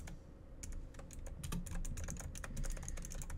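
Typing on a computer keyboard while filling in an email address and sender name for a WordPress discount popup, a steady run of quick, close key clicks continuing throughout with no talk.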